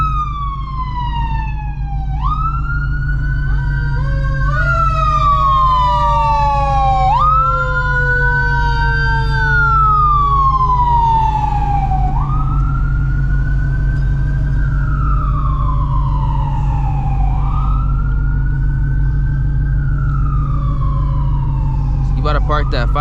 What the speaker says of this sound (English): You about to park that fire truck right there?